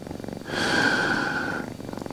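A street-born female cat purrs close by in a short, soft, rumbling burst lasting about a second, with quiet breathing before and after.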